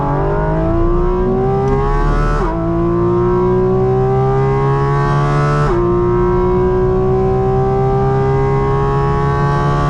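A Porsche GT4 RS accelerates flat out at the Spa circuit, its engine roaring loud and close as the pitch climbs steadily, breaking off sharply at two upshifts before rising again.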